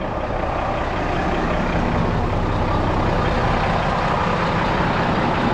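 A Cat 966D wheel loader runs steadily up close, its diesel engine giving a continuous heavy rumble and roar that holds level throughout with no speech over it.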